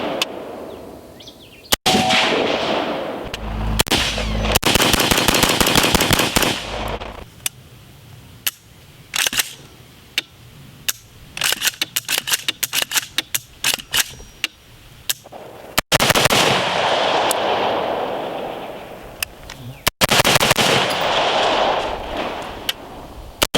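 Rebel Arms Lightning Mod II rifle fired rapidly outdoors, with dense loud reports in fast strings and short pauses between volleys.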